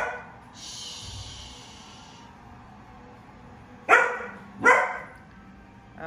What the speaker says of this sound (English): my dog has found his voice